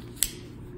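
A spring back lock on a folding utility knife gives a single sharp, close click, brief and alone.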